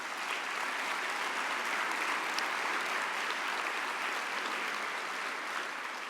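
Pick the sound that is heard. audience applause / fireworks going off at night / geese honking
audience applause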